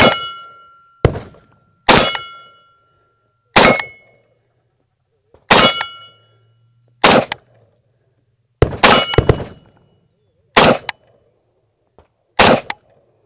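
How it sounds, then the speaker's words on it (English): Gunshots ring out one at a time at irregular intervals, each followed by a sharp metallic clang as rounds strike steel targets at a shooting range, with roughly ten loud cracks and brief silence between them. "Let's see how many hits on steel we get."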